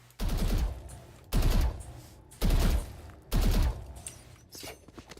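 Four short, loud bursts of rapid automatic gunfire in Valorant are aimed at a practice bot, each volley about half a second long and separated by brief pauses, close and punchy with no talk.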